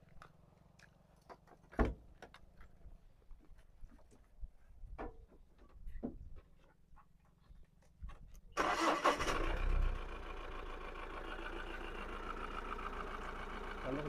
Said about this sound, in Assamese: ষ্টাৰ্টি দিছোঁ নাই ষ্টাৰ্টি দেখাই দিওঁ চাউণ্ডটো শুনক